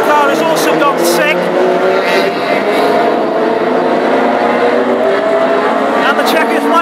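Classic hot rods racing on an oval track, several loud engines roaring continuously with passing cars and wavering revs, while a commentator talks over the noise.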